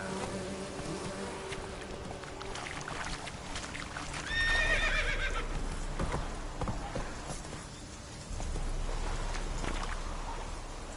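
Roach the horse in The Witcher 3 video game whinnies with a short high neigh amid a busy backdrop of hoofbeats, insect-like buzzing and ambient game sounds, fairly loud throughout.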